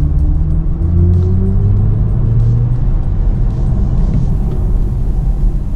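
A BMW i4 electric car plays its artificial driving sound while accelerating, a steady synthetic hum with tones that glide slowly upward over a low rumble, continuous and fairly loud throughout.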